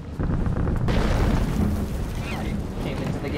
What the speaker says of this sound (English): And things are exploding.